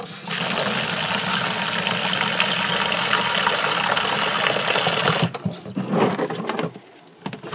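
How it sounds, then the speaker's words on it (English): Water gushing steadily into a container from a tap, a loud continuous rushing hiss for about five seconds, then stopping into a few splashes and drips, close by with no talk. "Refill the container."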